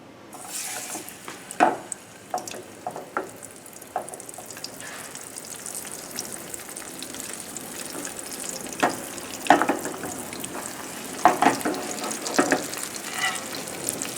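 Salmon sears in a hot pan over a high flame, a steady sizzle and fry with scattered louder crackles and spatters throughout, no voices.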